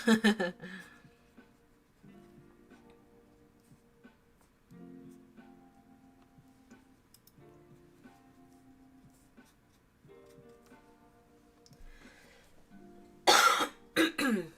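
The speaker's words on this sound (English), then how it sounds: "sorry for the loud cough" A sharp, loud cough bursts out near the end after a long stretch of quiet, with a brief rough sound at the very start too.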